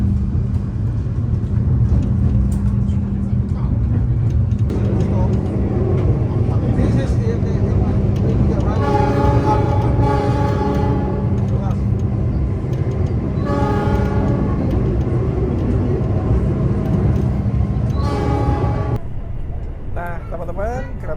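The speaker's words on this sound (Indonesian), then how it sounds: "Nah, teman-teman, keretanya sudah jalan ya." The Argo Bromo Anggrek passenger train pulls away from an Indonesian station with a heavy engine rumble and rolling wheels, its horn sounding in several long harmonic blasts, loud and near, with a voice speaking over it.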